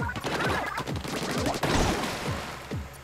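Octarians shoot ink in Splatoon at the Spongy Observatory, a dense burst of rapid splatting shots and crashes layered over game effects, loud and busy throughout.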